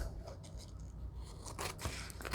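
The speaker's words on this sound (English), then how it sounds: "Now let's trim. Let's trim them in." Scissors trimming paper while making a small junk journal from a 6x6 inch paper pad, a few close snips and scrapes across a short stretch with no talking.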